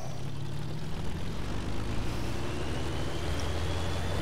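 Gunship aircraft in Just Cause 3 taking off from a very short runway, a steady loud propeller engine drone with broadband roar and rising tones, continuous throughout and without talk.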